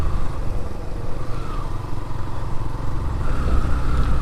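A motorcycle climbs mountain roads in the Bandarban hills near Thanchi, its engine droning steadily and close with a fluctuating rumble and some road clatter. There is no talk over it.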